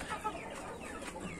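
A hen clucking close by in a short, quick burst of throaty clucks against faint outdoor background noise.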